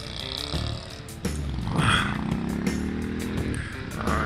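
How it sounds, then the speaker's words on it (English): A 2021 Indian FTR 1200 S motorcycle engine revs hard at high RPM while riding, a loud, continuous rasping roar that climbs in pitch, dips briefly, then surges again. "Wow, this thing really roars. Higher RPM."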